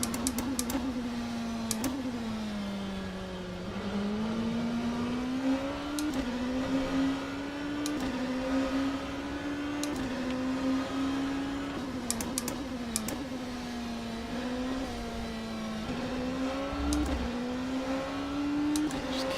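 Oreca 07 prototype race car in rFactor 2 lapping Sebring at night, a steady high engine drone rising and falling through gear shifts, with sharp clicks and upshift pops cutting in repeatedly.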